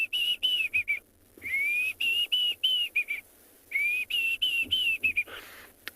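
A person whistles an imitation of a Diederik cuckoo's call: bright, clear rising notes in quick repeated phrases, with two brief pauses between bursts, loud and close.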